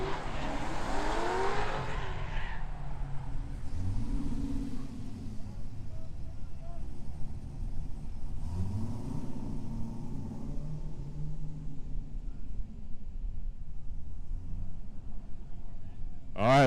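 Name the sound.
Corvette and BMW drift cars racing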